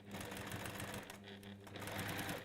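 A sewing machine runs steadily, stitching a straight line as fabric is fed through, with a continuous close, even whirring hum that barely pauses.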